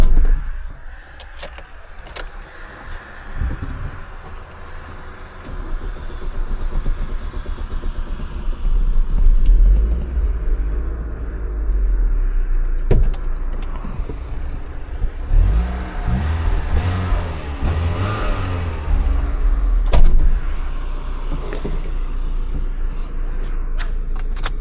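A 2002 Opel Corsa with a 1.4 petrol engine of 90 hp and manual gearbox, heard from inside while driving: a steady low engine hum that rises with revs, with road rumble underneath and brief shifts in pitch.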